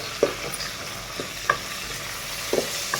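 Urad dal, mustard seeds, cumin, curry leaves and dried red chillies fry in oil in a pan over low heat, a soft steady sizzle broken by a few sharp pops and light stirring scrapes, with no talk.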